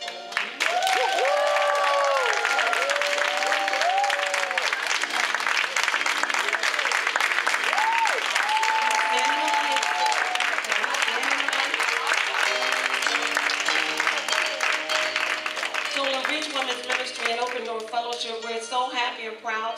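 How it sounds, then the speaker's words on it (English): Loud, sustained applause with cheering and whoops at an awards tea, many hands clapping continuously while voices call out over it, tapering slightly toward the end. "Can we clap it up for Tolman?"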